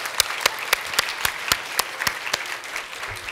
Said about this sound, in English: we give them another round of applause for all of their hard work